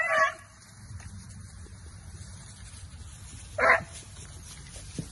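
Hunting dogs on a rabbit hunt give two sharp, distant barks about three seconds apart, over a low outdoor background of wind and movement.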